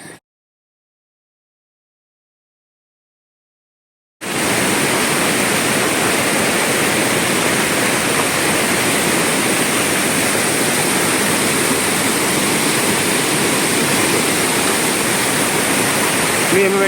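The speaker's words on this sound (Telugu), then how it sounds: "ఈ కొండల్లో నుంచి వచ్చేటువంటి జలపాత ప్రవాహాలు విపరీతంగా పెరిగిపోయాయి" After about four seconds of silence, a waterfall stream swollen by rains in the hills roars in as a loud, dense, continuous rush of water that holds steady to the end.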